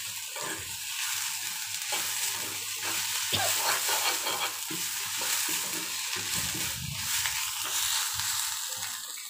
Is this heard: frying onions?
yes